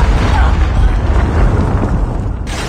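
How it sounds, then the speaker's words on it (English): A predator missile detonates in Call of Duty Mobile team deathmatch, a loud, close, rumbling explosion with heavy low-end boom that rolls on continuously and tapers slightly before a final crackle. "Hostile predator missile inbound."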